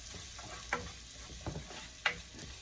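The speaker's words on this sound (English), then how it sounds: "I'm going to cook them down in that same bacon grease" Onions fry quietly in bacon grease and sausage oil, a soft steady sizzle with a few brief clicks and taps of a utensil against the pan.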